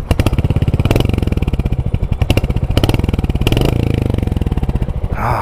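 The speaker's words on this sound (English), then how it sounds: "such a good sounding motorcycle" A Royal Enfield Hunter 350 motorcycle engine starts and runs alone, its steady, close, loud single-cylinder thump pulsing evenly throughout, with a short revving swell near the end.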